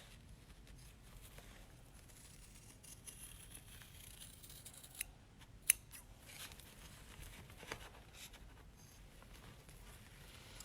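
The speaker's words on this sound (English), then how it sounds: "you want to trim, go into your little curves and trim around" Scissors snip and trim excess fabric around the curves of a quilted bunny trivet, producing faint, soft, irregular cuts against a quiet room hush, with a few sharper clicks near the middle.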